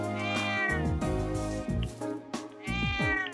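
A cat in the video game The Legend of Heroes: Trails of Cold Steel gives several clear, close meows in separate bursts, each with a rising and falling pitch, and no talk over them.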